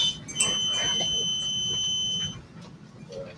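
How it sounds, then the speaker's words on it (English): Laboratory fume hood low flow safety alarm in a chemistry glass lab, two steady high electronic tones sounding together for about two seconds and then cutting off, over a low room hum. "Safety low alarm has to boot, and then it usually goes into an alarm state."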